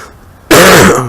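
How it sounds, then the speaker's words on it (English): One loud, close, harsh cough bursts out suddenly after a quiet moment. "coughing like a demon"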